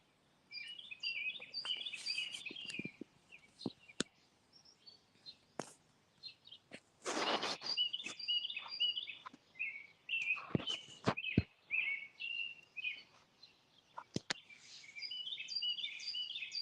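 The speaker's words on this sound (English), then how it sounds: "You can hear the birds right now." Songbirds in a garden chirp and trill almost without pause, several overlapping calls at moderate distance, with a few sharp knocks and rustles nearby and no talking.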